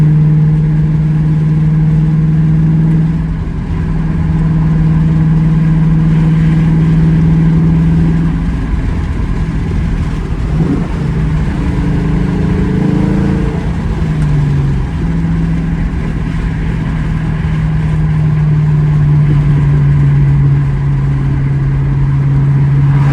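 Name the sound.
Ford Mustang GT engine exhaust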